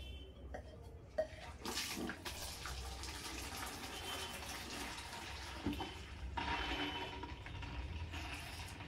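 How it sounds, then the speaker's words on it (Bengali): Water is pumped up to refill a fish tank, making a steady rushing, splashing flow throughout with a few louder bumps and gurgles near at hand. "তো জল তোলাটা শুরু করছি।"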